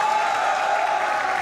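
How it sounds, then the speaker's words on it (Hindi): Sustained applause from a studio audience at a Pakistani comedy talk show: thick, even clapping from many people, loud and unbroken throughout. "तालियां बजाइए।"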